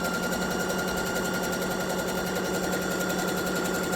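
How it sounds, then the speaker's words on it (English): A sewing machine stitches straight across a fabric scrunchie with a steady, continuous mechanical whir and rapid needle rhythm, close up and unbroken for the whole stretch, with no talking. "you're going to sew directly across"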